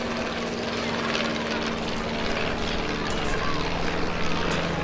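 A Stampe biplane's propeller engine drones loudly and steadily during a loop at the Eastbourne Airshow, with a continuous rough roar and wind noise close to the microphone throughout.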